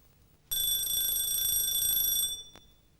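A kitchen timer set while eggs are cooking rings out in a bright, steady electronic beeping for about two seconds, close and alone, then stops with a short click.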